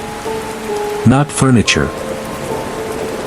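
Steady rain patters under a low thunder rumble, a soft continuous hiss with a voice speaking briefly over it in the middle.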